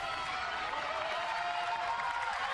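A Polish crowd at the 2017 World Games inline speed skating 500 m men's sprint quarter-final cheers and applauds a skater in a steady, dense wash of noise that holds throughout.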